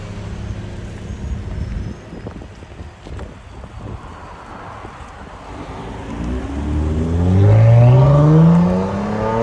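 A 2022 Lexus ES 350 with a 3.5L V6 and muffler delete revs up loudly, a rising throaty engine tone climbing in pitch after a stretch of wind-buffeted idle.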